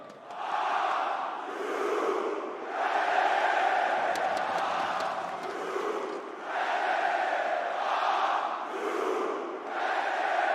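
Esports arena crowd at the IEM Cologne 2022 Counter-Strike grand final, a huge audience roaring and chanting in repeated rhythmic waves, loud and sustained, filling the hall.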